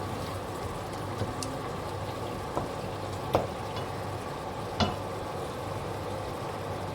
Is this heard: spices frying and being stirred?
yes